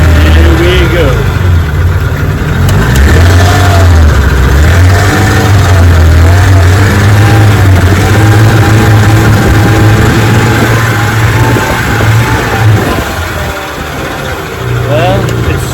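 An 18 HP Evinrude outboard motor runs loud and close, its drone rising and falling in repeated surges with a slight sputter and a dip near the end; a voice talks briefly over it.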